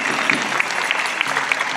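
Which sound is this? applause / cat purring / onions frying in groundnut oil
applause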